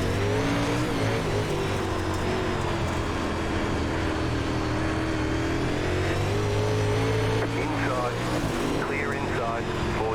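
UMP modified race car engine in the iRacing dirt video game at Lanier National Speedway, revving loud and continuous with throttle swells, engine drone filling the whole stretch.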